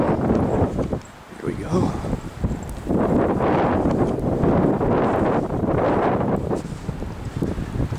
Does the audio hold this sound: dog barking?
no